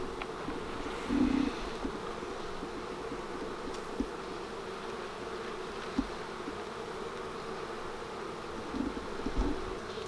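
Honeybees hum in a dense, steady drone around an open hive on a farm in swarm season. The buzz is continuous, with an occasional bee passing closer and louder, and there is no speech.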